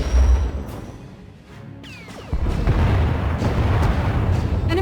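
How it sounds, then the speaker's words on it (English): An enemy warship firing turbolasers and missiles in the video game SWTOR, a heavy booming barrage with whooshing streaks and a sustained roar of blasts, loud and close. "Enemy is firing. Turbo lasers, missiles, and what looks like transport pods."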